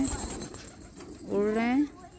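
Pigeons coo at a village pigeon house. One clear, rolling coo rises and then breaks off, close by, with quieter bird sounds before it.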